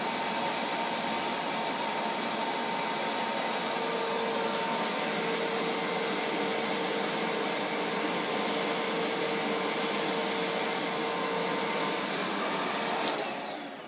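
A carpet shampooer with a brass pump runs with a steady, loud motor whine and airy rush that holds constant for about fourteen seconds before cutting off at the end.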